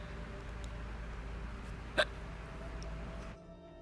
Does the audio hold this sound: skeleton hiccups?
yes